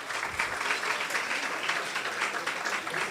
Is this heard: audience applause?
yes